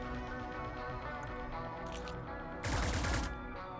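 A gunshot burst fired in the cyberpunk tactics game Cyber Knights: Flashpoint, one loud broadband blast near the end over a steady game soundscape, preceded by a couple of faint clicks.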